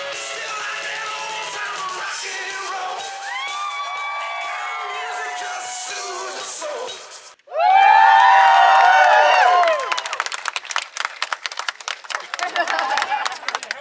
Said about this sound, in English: the crowd's starting to gather out here